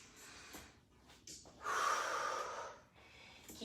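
Heavy, audible breathing during a lower-body strength and HIIT workout, with sharp inhales and forceful exhales rising to a strong, drawn-out breath in the middle, heard close and fairly faint.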